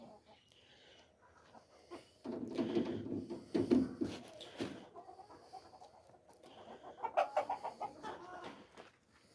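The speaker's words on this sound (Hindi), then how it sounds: "मैं जब तक मुर्गियों को उनके खुड्डे के अंदर बंद कर देता हूँ" Chickens cluck in bursts close by as they are shut into their coop, a busy run of short throaty calls rising and falling, with occasional quieter stretches between them.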